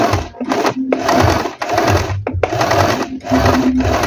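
Stitchmaster tabletop sewing machine stitching in steady mechanical runs, close and loud, broken by a few short pauses between bursts.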